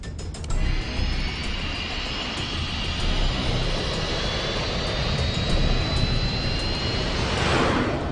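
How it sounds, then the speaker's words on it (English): Jet aircraft taking off: a loud, sustained engine roar that builds and holds steady for several seconds, close and dominant throughout. "Ready for takeoff."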